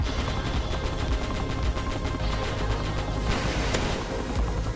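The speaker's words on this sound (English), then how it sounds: "I can fire on guys with the gunner" Dense rapid gunfire from the gunner's seat of a Cobra attack helicopter in the Roblox game Base Battles, a continuous stuttering burst of shots heard up close over steady rotor and engine noise.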